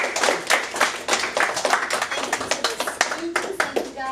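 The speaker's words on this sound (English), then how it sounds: "Let's give Derek a big round of applause." A small group claps in a lively burst, individual hand claps distinct and close, with a voice briefly audible amid the applause.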